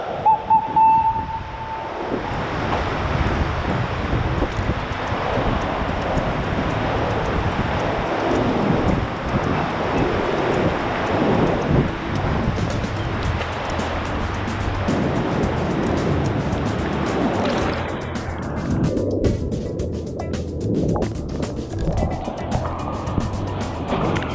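Waves of a rising tide surge and wash through sea caves in a steady, roaring rush with wind noise on the microphone, loud and close throughout, easing toward the end.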